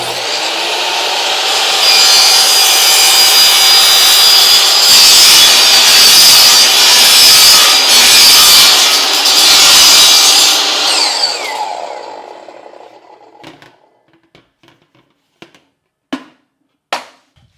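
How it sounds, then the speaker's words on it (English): A compound miter saw cuts through stock for a funnel holder with a loud, sustained whine. The blade then spins down, followed by a few sharp clicks and knocks. "So now we just got to cut this thing off. And I'm going to use my trusty compound miter saw."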